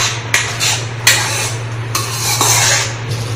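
A spoon scrapes and knocks against a pan while a bottle gourd dough-ball mixture is stirred, giving several irregular, close metallic clinks over a steady low hum.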